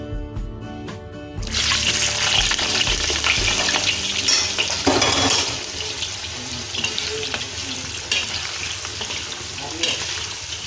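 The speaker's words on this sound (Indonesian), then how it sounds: "Kita goreng kentang." Potatoes frying in hot oil for a Minang-style home cooking recipe, a loud steady sizzle that bursts in after a quiet start and continues with occasional stirring clatter and light kitchen water noise.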